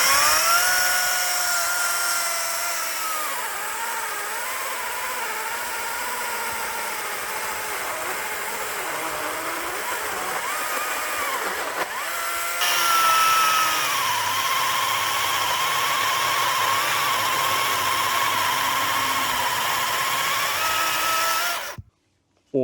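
An EGO 2025 battery-powered leaf blower runs continuously close by, a loud steady whooshing whine whose pitch wavers and surges slightly mid-run before shutting off abruptly at the end.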